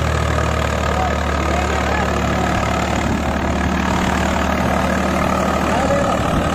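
A Swaraj 855 or Sonalika tractor engine labours under load in second gear, its RPM sagging slightly, a loud, steady, close diesel drone with a dense low rumble throughout.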